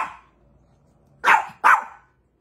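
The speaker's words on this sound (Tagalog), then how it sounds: "Napakaingay nga tahol ng tahol." A dog barks twice in quick succession, loud and close, after a faint trailing yelp at the start, with quiet between the barks.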